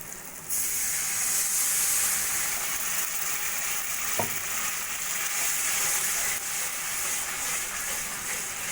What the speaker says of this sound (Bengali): এবার আমি দিয়ে দেবো মিক্সির বাটিটা ধুয়ে অল্প করে জল